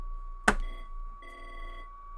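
A telephone rings with a sharp click at the start, then a steady electronic tone and a short buzzing ring burst, moderately loud and close, with a constant hum underneath and no voices.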